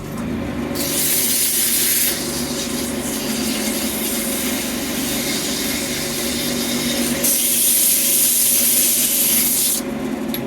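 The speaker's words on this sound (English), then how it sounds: "we'll use a little bit of sandpaper and clean this thing up" Sandpaper rubs against a railroad spike spinning on a running lathe, a harsh scratching hiss in bursts over the steady hum of the machine, loudest near the start and end.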